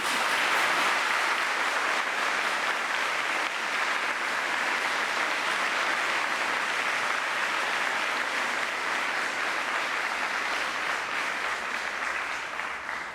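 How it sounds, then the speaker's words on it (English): Dense, sustained applause from a large audience at a university graduation ceremony, steady and loud for the full stretch, slowly easing toward the end without any talk over it. "give your guests a rousing round of applause"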